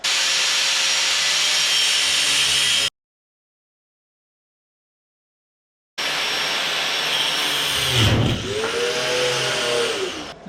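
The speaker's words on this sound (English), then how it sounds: "Now we're going to cut these into the configuration I need using my cutoff tool." Cutoff tool cutting pieces of metal for a trailer build, a loud whining grind in two runs split by a silent gap, the second rising and dipping as the disc bites.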